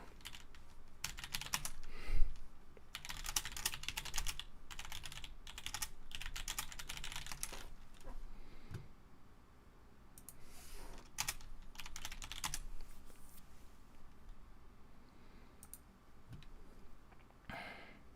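Rapid typing on a computer keyboard while searching online, with bursts of clustered key clicks and pauses in between, close and moderately loud with no talking.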